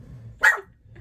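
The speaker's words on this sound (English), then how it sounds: "Oh, you want to bark at me?" One short bark from a dog rings out close by in an otherwise quiet room, with a low background hum before and after.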